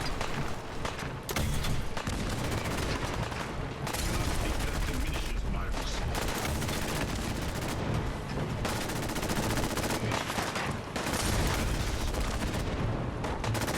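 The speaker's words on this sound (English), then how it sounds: "Alright, how do we fire the cannons?" Cannon fire against scavengers in the video game Fallout 4, a relentless barrage of booming blasts and gunfire filling the whole stretch, loud and dense, with brief lulls between volleys.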